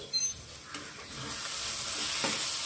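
Chili powder, Kashmiri chili powder, coriander and cumin sizzle steadily in a pan for a Bangladeshi-style egg curry, with soft scraping stirs over a constant frying hiss.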